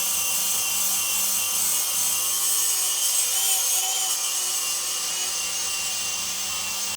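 Steady abrasive scuffing and rubbing on a part from an antique backhoe being cleaned up, a continuous dense scraping texture that runs unbroken for several seconds, close and fairly loud with no talking.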